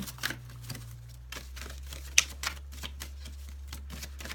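Soft, irregular clicking and riffling of tarot cards being shuffled close up, with one sharper snap partway through over a low background hum.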